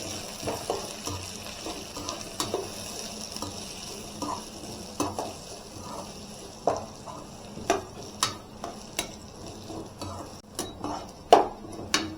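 Four green chillies fry in a pan for semiya upma, with a soft sizzle beneath irregular scraping and tapping as the mix is stirred, the clicks sharpening toward the end.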